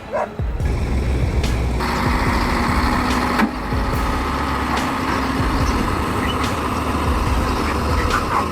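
A large dump truck engine rumbles steadily and loudly, with sharp clanks and bangs cutting through at intervals.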